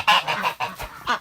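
Geese honk several times in quick succession, loud and close, with short pauses between the calls.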